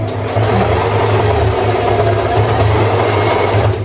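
A sewing machine runs continuously while stitching a puff quilt, a loud, close, steady motor hum with a faint rhythmic texture.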